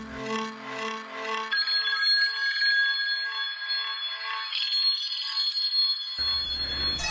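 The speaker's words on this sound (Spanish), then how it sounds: "el teléfono de Mike no dejaba de sonar." A telephone rings with a bright, continuous bell-like trill that carries steadily for several seconds, loud and close, with no voices present.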